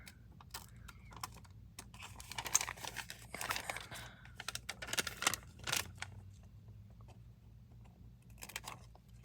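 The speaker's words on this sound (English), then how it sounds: "I probably trimmed a little bit too much from that side, so I'll try to be more careful over here" Scissors trim a paper bag in a quiet room, giving irregular crisp snips and crinkling paper rustles, close and faint, in uneven bursts.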